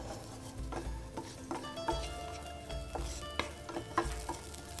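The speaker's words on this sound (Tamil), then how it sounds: "இந்த மொச்சை நம்ம வேணுங்கிற அளவுக்கு லேசாக வதக்கிக்கலாம்." Field beans sizzle steadily in a hot pan while a utensil stirs and scrapes them in irregular strokes, with no talking.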